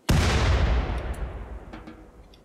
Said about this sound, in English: Instant explosions. That was pretty cool.